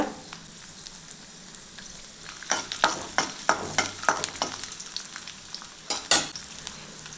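Peeled garlic and a piece of ginger frying in hot oil, with a quiet steady sizzle broken by a rapid series of sharp scraping stir strokes in the middle and a loud clatter near the end.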